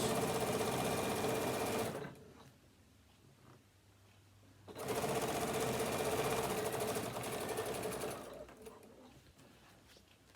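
A sewing machine stitches close to the edge of fabric for a tablet holder, running in two loud, steady whirring bursts with a short quieter pause between them, no voices.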